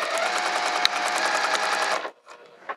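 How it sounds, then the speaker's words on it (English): A sewing machine stitches a cork wrist pouch lining in one fast, steady two-second run of whirring needle strokes, close up, followed by a short quieter burst after a brief pause. "We're gonna sew this together now"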